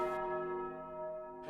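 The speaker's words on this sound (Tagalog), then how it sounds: "habang tumutunog ang kampana" A single church bell tolls with a sustained ringing tone that hangs and slowly decays, loud and clear with no talk, a second strike beginning right at the end; part of a movie scene.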